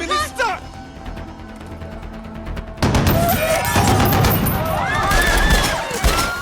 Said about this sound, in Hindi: ये तो सचमुच गोलियां चल रही हैं।